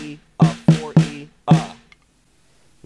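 Four drum hits in a sixteenth-note rhythm with a rest falling on the "and", close and punchy with sharp decays, then a pause before a fifth hit starts at the end; no talking.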